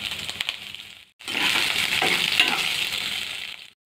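Two green chillies hit hot oil in a pan for bread manchuria, producing a loud, close crackling sizzle that bursts in after a brief pause and holds steady for a few seconds.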